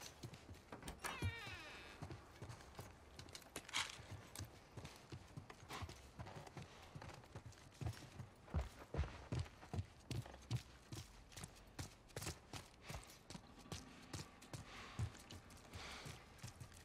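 Steady clip-clop of horse hooves in the video game The Last of Us, a rapid rhythmic trot repeating throughout at close range, with faint game background noise.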